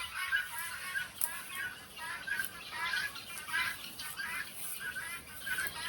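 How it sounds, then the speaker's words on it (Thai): Guinea fowl call repeatedly in a rhythmic series of harsh, raspy cries at a Laos farmstead, moderately near, with steady background noise throughout. "ตัวเบิ่งไก่ตอกมา"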